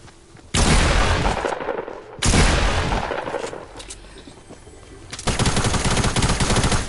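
Rapid automatic gunfire in Fortnite, in loud sustained bursts that start and stop three times, each stretch a dense rattle of shots.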